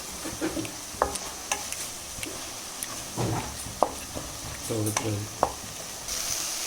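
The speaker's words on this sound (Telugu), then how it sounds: "బాగా వేయించాలి. బాగా దగ్గర పడేంత వరకు బాగా కలిపెట్టాలి" Red chillies and gongura leaves are stirred and fried in a pan with a soft continuous sizzle, broken by scraping strokes of the spoon and a few sharp clinks against the metal, all close by.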